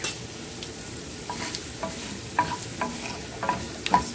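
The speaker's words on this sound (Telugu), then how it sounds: "పసుపు కూడా తొందరగా ఫ్రై అయిపోయిందండి" Turmeric sizzles in hot oil with dried red chillies, a steady crackling fry with scattered sharp pops and light stirring scrapes, close and fairly loud with no voices.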